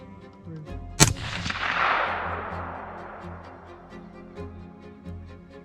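A single sharp gunshot fired at a raccoon during night hunting, loud and close, followed by a long fading echo rolling across open terrain, with a faint ticking in the background.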